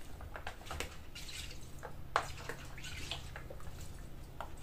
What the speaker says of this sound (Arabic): ولما تحركوهم بتحسوهم عم يزقزقوا اسمعوا الصوت يلي بالفيديو